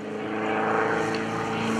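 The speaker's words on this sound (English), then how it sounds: "trying to get his airplane started up here" An RV homebuilt propeller plane's engine runs at an airshow, a steady droning prop roar holding at a constant level for under two seconds with no voices over it.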